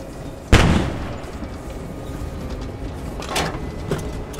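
A single sharp boom of a tank exploding in a video game bursts out, then fades into low rumbling, with fainter thuds following a few seconds later.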